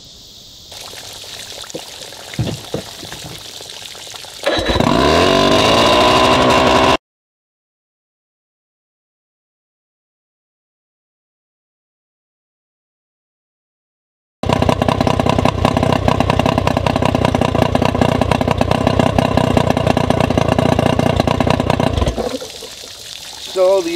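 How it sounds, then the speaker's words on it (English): An outboard boat engine warms up, its steady running drone heard in two long stretches separated by a gap of silence, with water splashing and trickling around it. "First thing I'm going to do is warm this engine up."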